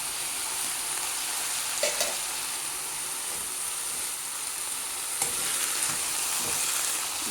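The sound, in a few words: ginger and gooseberry sautéing in oil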